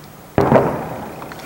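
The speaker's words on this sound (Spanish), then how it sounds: "Si en este momento escuchamos un disparo bastante potente." A single loud, sharp gunshot cracks out at night near a street barricade and then rolls off in a decaying echo, with no voices.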